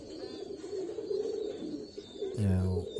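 Low, throaty cooing of dozens of pairs of pigeons caged on a farm, repeated several times nearby, with a person talking over them and a louder coo near the end.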